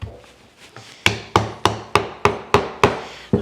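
A mitered wooden dovetail joint is hammered together with about nine sharp, evenly spaced blows. Each knock rings briefly and lands close and loud after a few quieter taps at the start.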